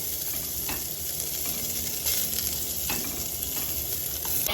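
Coconut pieces with curry leaves fry in hot oil in a pressure cooker pot, a steady close sizzle crackling throughout, with occasional sharper spits and stirring scrapes.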